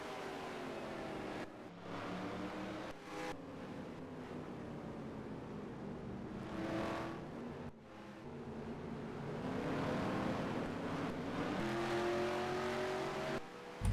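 Race cars in NASCAR Racing 2003 roar down a long straight, steady engine drone with rising and falling pitches as cars pass, loud and continuous throughout.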